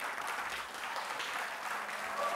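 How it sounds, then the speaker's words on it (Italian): Studio audience applauding at a television show appearance, a steady dense clapping that holds throughout with no talk over it. "Applausi a scena aperta dallo studio"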